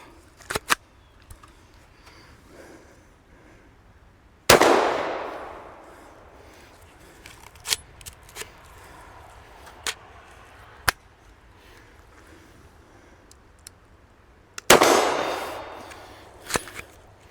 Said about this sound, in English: So we're getting it to fire, just not getting it to function properly.